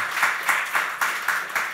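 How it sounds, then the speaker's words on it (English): An audience applauds Belgian speaker Jonathan Holslag after a public talk, a fairly faint, rhythmic clapping in even pulses roughly every quarter second, as if clapping together in time. "let's applaud once again to Jonathan"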